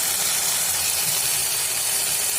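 Carrot halwa sautéing in a pan, a loud, dense, continuous hiss and sizzle that carries unbroken throughout, with no voices.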